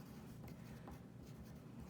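Pen or marker strokes write out a maths question about a line plot, soft continuous scratching close by and very quiet, with no talk over it.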